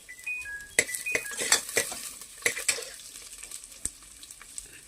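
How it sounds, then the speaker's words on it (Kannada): Onion with cinnamon, cloves and peppercorns fries in hot oil, a light sizzle broken by sharp metallic clinks and scrapes of a utensil against the pan, no voices. "ಒಂದು ದೊಡ್ಡ ಸೈಜ್ ಈರುಳ್ಳಿ ಹಾಕ್ಕೊತಾ ಇದ್ದೀನಿ. ಸ್ವಲ್ಪ ಫ್ರೈ ಆದಮೇಲೆ"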